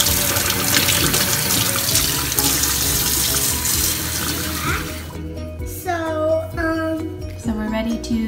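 Tap water runs steadily into a sink while celery is scrubbed and rinsed beneath it, then the flow stops and a person's voice is heard speaking nearby.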